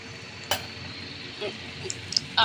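Katla fish masala is sautéed with salt and turmeric in a pan, a low steady sizzle with a few sharp utensil scrapes and taps close by.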